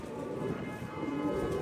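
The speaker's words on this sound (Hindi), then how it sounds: "ये 88 नंबर कबूतर है" Show pigeon number 88 coos softly against a steady murmur of background noise, one short, low call.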